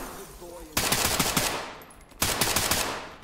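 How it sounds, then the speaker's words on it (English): Two loud bursts of rapid automatic gunfire in the tactical shooter Ready Or Not, each a sharp sustained volley of cracking shots about a second long, separated by a brief gap, with faint game ambience underneath. "he's shooting one of the sisters in the background"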